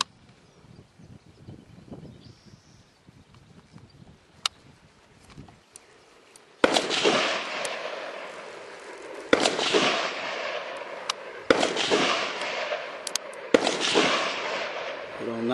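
Rifle shots from a Nemesis Arms Windrunner .308 sniper rifle fired at a metal target, four sharp loud cracks at a slow spaced rhythm, each followed by a long ringing, rolling decay.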